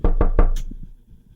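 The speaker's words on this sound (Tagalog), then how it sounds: "may narinig akong parang may kumakatok. Pero mula ito sa loob ng kabaong." Three sharp, evenly spaced knocks on a coffin from the inside, loud and close, followed by a faint low rumble as the sound dies away.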